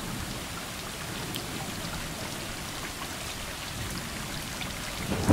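Steady, dense rainfall in the video game Stray hisses evenly throughout, with no voices and only faint scattered drop patters standing out.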